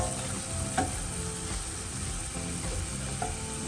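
Bitter gourds stuffed with masala fry steadily in a pan with a constant broadband sizzle, broken by a few faint scraping clinks of a utensil; no one speaks.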